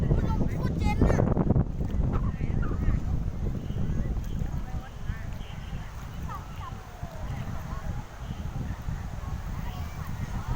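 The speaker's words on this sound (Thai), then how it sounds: "ลมโคตรเย็นอ่ะ" Cold wind at Bang Saen beach buffets the microphone in a steady loud rumble throughout, with faint surf and movement noise underneath.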